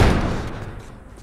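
Heavy door slammed and barricaded in The Last of Us video game, a dense low thudding impact at the start that rumbles and slowly decays over about a second, with no talking.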